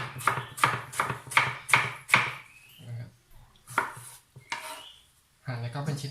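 A knife chopping tomatoes on a cutting board for a blended dipping sauce, a quick run of sharp, close chops followed by a few slower, spaced cuts, with no voices.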